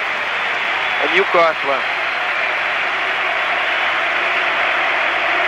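Steady broad applause from football fans in a stadium at a 1997–98 Champions League match between Newcastle and Dynamo Kyiv, sustained crowd noise with a commentator speaking briefly over it.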